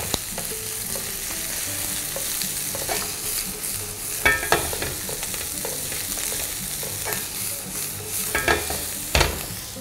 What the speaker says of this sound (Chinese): 简单翻炒一下